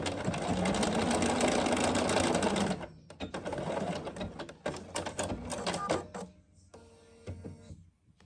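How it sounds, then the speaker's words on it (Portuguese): A sewing machine stitches a fabric bag in a fast, continuous whirring run that stops abruptly, followed by scattered clicks and short mechanical bursts with faint talk. "voltamos a colocar a agulha na marcação seguinte e costuramos até ao topo"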